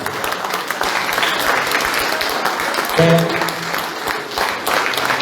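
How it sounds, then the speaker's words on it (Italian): A crowd at an outdoor Sardinian festival event applauds in a sustained, steady wash of clapping with a voice briefly calling out over it partway through. "applauso infinito per questo Baldini"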